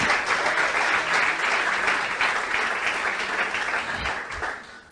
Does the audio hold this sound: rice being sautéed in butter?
no